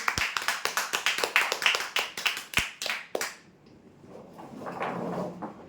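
An audience at a prize draw event claps for the winners in a quick, even burst of loud claps for about three seconds, then the clapping stops and a low murmur of voices follows.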